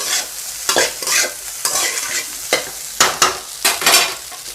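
Egg pepper rice stirred in a hot pan, with repeated scraping strokes of the spatula over a soft, constant sizzle.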